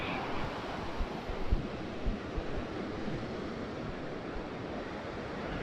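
Cold ocean surf washes in a low, continuous roar with a few soft swells, fairly faint and muffled, wind brushing the microphone.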